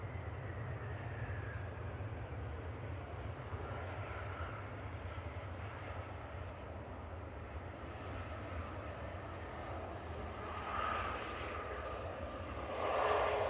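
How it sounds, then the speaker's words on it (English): Boeing 787-10 Dreamliner backtracking on the runway at Manchester Airport, a faint, distant, steady engine rumble and hum, rising slightly near the end. "a 787-10 Dreamliner backtracking"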